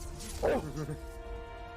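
A dog named Luna gives a short, close bark-like yip and whimper, a single brief burst over a quiet room hum.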